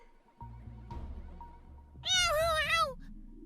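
A cat meows in a video game, one long wavering, drawn-out meow that stands out loudly over a soft background of game music.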